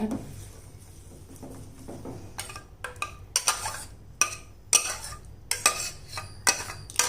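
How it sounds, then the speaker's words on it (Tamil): A metal ladle scoops a thick rice and coconut payasam mixture into a cooker, making a series of sharp, close clinks and taps against the pot after a quiet start. "கட்டியாக இருக்குல்ல, அதனால் கரண்டியால் எடுத்து போடுங்க."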